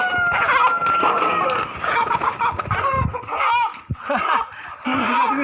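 A Tiger breed chicken clucks and squawks loudly up close while being weighed at about two kilograms, its calls rising in agitated bursts; brief rustling and faint background voices are mixed in.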